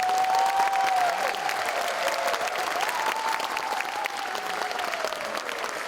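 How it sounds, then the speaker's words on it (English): At an elementary school spring concert, an audience applauds the fourth grade band with sustained, even clapping and a faint whistle or cheer, lasting several seconds before easing slightly. "please give our fourth grade band another round of applause"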